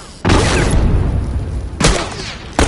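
A grenade blast in The Last of Us multiplayer: one loud, sharp boom with a rumbling tail, followed by two shorter bangs, close and alone with no talk.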